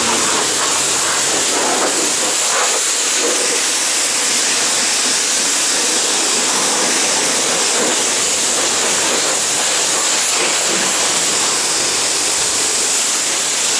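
A car wash sprayer pushes foam in a continuous loud hiss and rush of pressurized spray, steady and close throughout with no talking.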